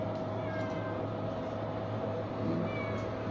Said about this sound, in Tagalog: Nagtatawag ng pansin. Meow daw,